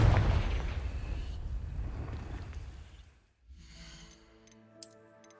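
Confringo fire spell cast in the Hogwarts Legacy game: a loud rumbling blast that decays over about three seconds, then a brief lull followed by shimmering magical tones and a sharp crackle.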